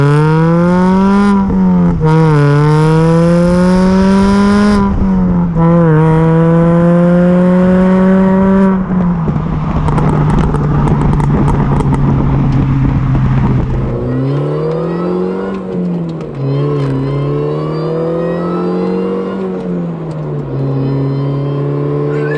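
A Mini's engine revving hard and accelerating on a country B road, loud and close, pitch climbing through gears with brief drops between shifts, then settling into a steady drone.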